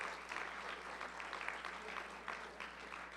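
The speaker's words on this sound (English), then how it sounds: "Let's give them a round of applause and join them." An audience applauds at a charity fund campaign kick-off event, with steady, fairly faint clapping from a room-sized crowd that lasts the whole moment.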